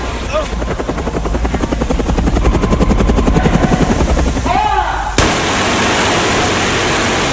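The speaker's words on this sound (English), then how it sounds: "to fly a helicopter down the front of the building" Steady, loud rotor thumping of a helicopter flying down the front of a building fills the clip, a rapid chopping pulse over broad roaring noise that cuts abruptly into a rushing wash.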